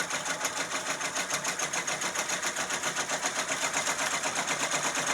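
A Brother PR680W embroidery machine stitches a garden flag, giving a steady, fast, evenly pulsing whir that runs unbroken and close up with no one speaking.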